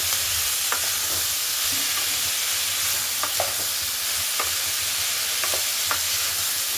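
Potato and beetroot with green chilies fry and get stirred in a pan, giving a constant close sizzle broken by scattered spatula scrapes and taps.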